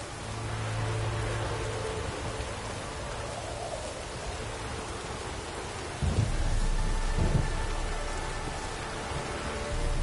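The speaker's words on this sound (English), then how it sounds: "A storm, damn it." Thunderstorm in a PS4 video game: steady heavy rain hisses throughout while a deep thunder rumble swells up partway through and rolls on, with no voices.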